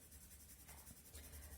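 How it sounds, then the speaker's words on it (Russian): A brown pencil colours on paper with a soft, continuous scratchy rubbing, faint and close, with slight strokes shifting in rhythm. "коричневый карандаш, и разукрашиваем наши бревнышки"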